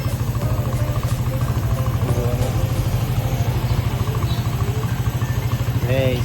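Motorcycle engine idling steadily during an emissions test at a vehicle registration renewal, a close, rhythmic low putter with even pulses throughout, with voices chatting faintly in the background.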